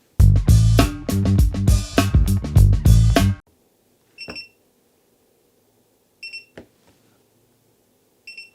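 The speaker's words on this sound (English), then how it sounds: "Okay, so I can hear this thing beeping." Loud rhythmic bursts give way to a few short, high electronic beeps spaced apart, with quiet between them, from a tire pressure monitor alarm on a backup camera system.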